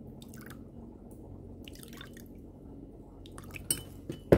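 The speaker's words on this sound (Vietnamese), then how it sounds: "Mình sẽ cho vô đây là 3 muỗng canh nước" Three tablespoons of water poured over chili and pepper seasoning for a sweet-savory green banana dish, giving faint soft drips and trickles over a low steady hum, then a sharper clink of spoon or bowl at the end.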